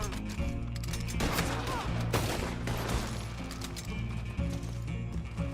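Gunfire in the Western online game Red Dead Online, with loud game shots and crashing impacts mixed into a dense, continuous game soundscape.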